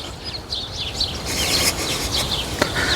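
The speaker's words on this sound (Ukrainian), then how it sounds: "А пташки, ви чуєте цих пташок?" Birds chirp and sing in short, bright bursts throughout, moderately near, over soft outdoor background noise.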